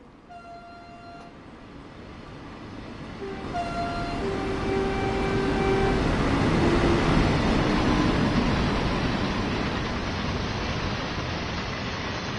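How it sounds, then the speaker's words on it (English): A train in Train Sim World 5 sounds a horn with two tonal blasts, then rolls closer with a swelling, steady rumble that lingers loudly and fades slightly at the end, with no talking. "There's our train."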